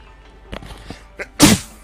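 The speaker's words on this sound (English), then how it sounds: "Managed so well so far not to sneeze." A single sharp sneeze from a man, a short explosive burst after a few faint clicks and breaths, close and loud against near silence.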